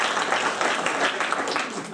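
A comedy club audience bursts into applause, many hands clapping at once in a dense, lively wash that holds steady for a couple of seconds before easing slightly.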